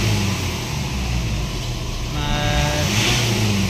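A Mitsubishi Montero Sport with a turbo underboost and check engine fault, now repaired, has its engine revved, a steady close engine drone rising in pitch partway through before holding high.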